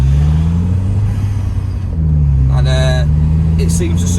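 A Vauxhall Zafira GSI with a stage 2 tune pulls hard on the road, its engine droning loudly and rising in pitch from inside the car, while a voice talks over it near the end.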